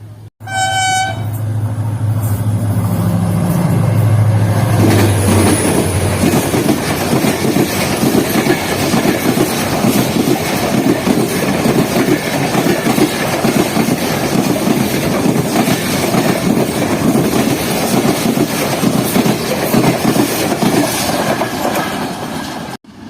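A train speeds past at Dabheji railway station, opening with a horn blast, then a loud, sustained roar of rushing wagons with rhythmic clatter that holds steady before easing off at the end.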